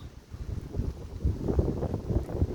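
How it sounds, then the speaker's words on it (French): Strong wind high up, ahead of an arriving thunderstorm, buffets the microphone in low, surging rumbles that grow louder and gustier toward the end, with no voices. "Le vent qu'il y a là-haut, là."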